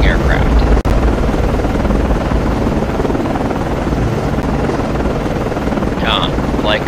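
Rotor drone of an SH-60 helicopter lifting off from a destroyer's deck in the Cold Waters naval game at night, a steady loud broadband roar with a brief thump near the start and a voice heard faintly near the end.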